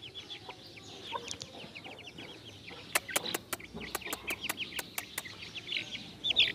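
Heera cross chicks about one and a half months old chirp and cluck in quick, high, repeated peeps, with a run of sharp clicking taps in the middle and a close peep at the end.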